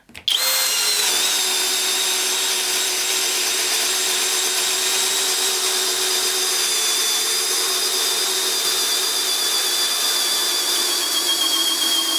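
A Skil XP DD1E3080 cordless drill driver spins a drill bit into material with a steady, loud, high-pitched motor whine that starts abruptly and holds without pause for the whole stretch, close up and without talk.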